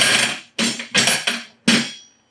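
Backyard 10 gauge steel reactive targets reset with a pull string, clanging in four quick metallic hits that ring briefly after each strike.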